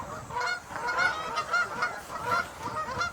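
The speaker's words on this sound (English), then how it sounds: "this is the best look ever for me at a greater white-fronted goose" A greater white-fronted goose honking in a series of repeated, evenly spaced nasal calls, moderately near and clear over quiet background.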